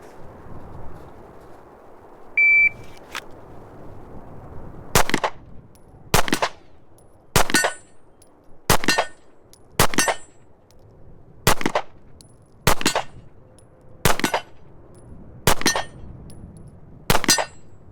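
Ten handgun shots, fired freehand at steel targets outdoors, crack out loud and close one at a time, spaced roughly a second or so apart, each with a sharp report and ringing tail.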